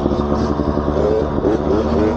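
Gas Gas trial motorcycle being ridden, its engine a close, steady mid-pitched putter with slight revving and clattery mechanical texture throughout.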